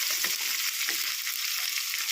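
Onions fry in a fair amount of oil with gram flour and cornflour, a dense, steady hiss of sizzling that holds without a break, loud and close.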